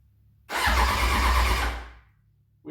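Suzuki Bandit 1200 motorcycle engine cranking on its starter, one loud continuous whirring crank of about a second and a half that winds down and stops, followed by the start of a second burst.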